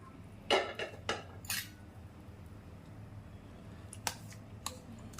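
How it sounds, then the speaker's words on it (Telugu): Cooked lentils being mixed in a pressure cooker, heard as a few close metallic clanks and scrapes of a spoon against the pot, followed by quieter taps and clinks at a low level. "ఈ కట్టు అంతా కూడా ఇలా కుక్కర్లో ఒకసారి వేసుకొని ఇప్పుడు దీంట్లో మిక్స్ చేసుకుందాం"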